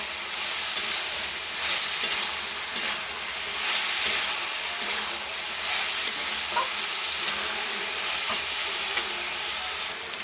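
Food sautéing in a pan, steady loud sizzle and frying hiss with occasional stirring scrapes and clicks, continuous and close, no voices.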